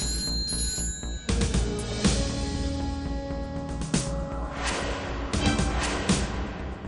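Telephone ringing at a police station, bright repeated electronic rings running steadily over a loud dramatic music bed, close and prominent.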